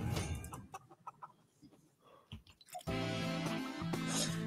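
Chickens cluck in a Fortnite match, with scattered short clucks and clicks in the first half before a louder, denser wash of game sound takes over, and no voices.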